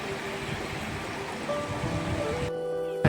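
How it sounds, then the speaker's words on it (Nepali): The Rambang river stream in a village flows with a steady rushing wash, close and continuous, with a faint tonal hum and a brief clunk at the end. "र यो चाहिँ हाम्रो रामबाङ खोला हो"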